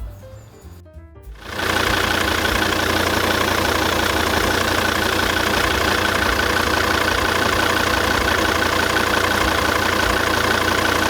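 A Volvo S80 engine idles steadily and loudly after a brief quieter moment at the start, its even rumble continuing without talk, during an automatic transmission fluid check.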